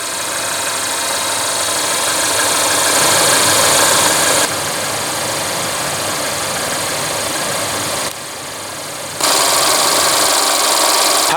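A 2016 Mercedes-Benz CLA250 with its 2.0 L turbocharged four-cylinder engine runs loud and close, a steady drone whose level shifts up and down in distinct steps.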